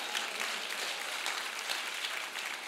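A church congregation claps steadily and densely throughout, sustained applause filling the room with no voices above it.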